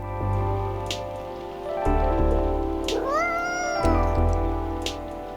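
A cat meows in the Coffee Talk video game, rising, drawn-out cries over a steady ambient music bed with soft rain, heard close and fairly loud, with a couple of meows standing out near the middle.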